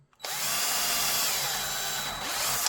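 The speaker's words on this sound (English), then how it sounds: "And then drill that 3rd hole." An electric drill bores a hole through a two-piece leather gun holster for a Sig XMACRO, running loud and close as one steady, unbroken whir of about two and a half seconds.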